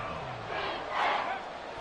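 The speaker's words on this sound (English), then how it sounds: "This crowd turning up the decibel level." A football stadium crowd swells into loud cheering, a broad wash of massed voices that rises toward the middle and then eases slightly, with no single speaker standing out.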